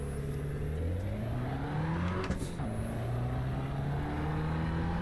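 Race car engine in the racing game Assetto Corsa Evo during a time trial: a continuous revving drone that climbs through gears with brief shift dips, steady and fairly loud, with no talking.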